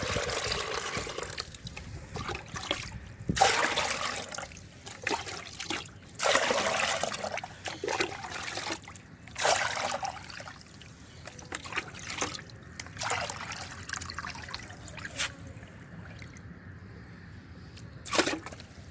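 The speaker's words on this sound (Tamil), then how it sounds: "இப்போ ஒரு மக்கை எடுத்து இந்த ஒரு மக்குக்கு நீங்கள் 5 மக்கு தண்ணி ஊற்றிக்கலாம்." Water poured from a mug into homemade liquid fertilizer splashes and trickles in several separate pours with short pauses between them, close and fairly quiet.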